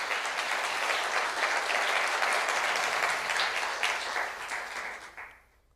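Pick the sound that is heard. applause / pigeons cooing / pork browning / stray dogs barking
applause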